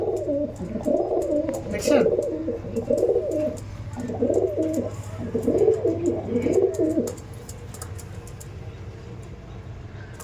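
Madrasi pigeons cooing close by in a loft, several rhythmic bursts of deep throaty coos over a low hum, fading out; someone speaks briefly.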